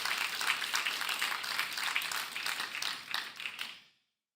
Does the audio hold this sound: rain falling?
no